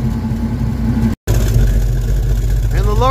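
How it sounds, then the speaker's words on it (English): A Ford Mustang idles low with an exhaust leak, a steady mid-pitched engine rumble close by, briefly cut by a moment of silence, while a voice talks over it near the end. "the lower the idle, the more you can hear that exhaust leak, the crackle"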